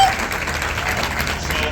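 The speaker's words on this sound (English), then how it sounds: "Give them a round of applause." An audience at a company team-culture event breaks into applause: a brief, dense wash of clapping from a crowd, steady and moderately loud.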